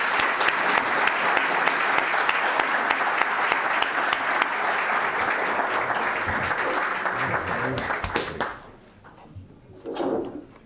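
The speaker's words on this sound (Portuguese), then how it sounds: "recebamos com uma salva de palmas José Horácio" Sustained applause from a seated audience welcoming a speaker to a conference stage marking thirty years of the Constitution, dense and steady for about eight seconds before fading into a few scattered claps and a brief voice.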